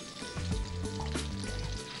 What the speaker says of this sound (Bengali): কালো জিরে ফোড়ন দিলাম আমরা ওই তেলেই